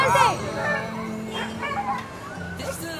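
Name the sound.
dogs barking and whimpering while being caught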